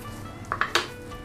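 Chopped chayote being mixed with starch and seasoning in a bowl, giving a few quick clinks and scrapes of utensil against the bowl, clustered over a moment, close and fairly quiet.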